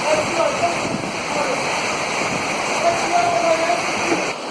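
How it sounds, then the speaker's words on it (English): Heavy pouring rain during a UK-to-Morocco bike tour, a dense steady hiss that roars without a break across the whole stretch, close and loud, with some wind buffeting and no clear voices over it. "it's pouring it down with rain"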